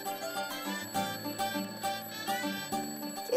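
An alarm rings with a bright repeating bell-like pattern, pulsing steadily in even bursts, clear and moderately loud with no talking over it.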